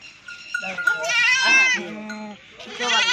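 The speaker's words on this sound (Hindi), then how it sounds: "एक बकरी खड़ी है, इसके साथ 3 बच्चे हैं" Rajanpuri goat with three kids bleating repeatedly in a wavering, nasal series, close and fairly loud, with a short pause before a final bleat.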